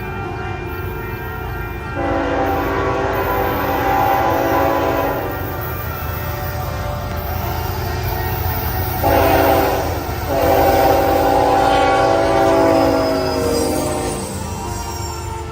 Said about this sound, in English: So while I was at Isabella Street, I caught 3 trains.